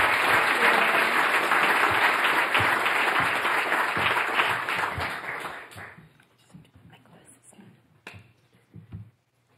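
An audience applauds to welcome a keynote speaker at a school fundraising tea, a loud dense burst of clapping for several seconds that thins into scattered claps and fades out.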